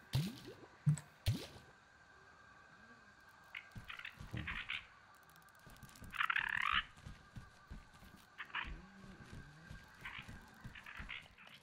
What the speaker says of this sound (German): Machen unsere Wasserflasche auch mal eben wieder voll.